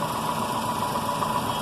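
A car engine idles steadily during a Bosch BAT 131 battery and alternator test, a continuous even hum with mild vibration, heard close and alone.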